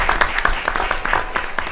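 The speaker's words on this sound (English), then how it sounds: "give them a round of applause" Audience applause at a political event, a short burst of steady clapping from a crowd of moderate size that fills the whole moment without voices over it.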